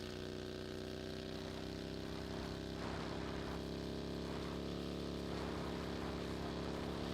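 The droning engine of a glider aircraft in the video game PUBG hums steadily and loudly throughout, with a low, constant, buzzing tone and no talk.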